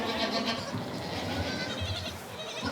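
Goats on a farm in Corsica bleating in a dense, overlapping chorus, several animals calling at once at close to moderate range, loud and continuous throughout.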